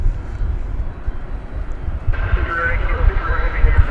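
A UPS Boeing 747-400 at DFW Airport rumbles in the distance as a low, rising roar. Wind buffets the microphone, and someone talks over it.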